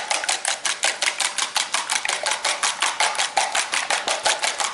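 Potato, cheese and egg mixture for Hot Cheeto potato cheese balls worked by hand in a bowl, a fast steady run of wet, squelching slaps repeating about four times a second, close and fairly loud with no talking.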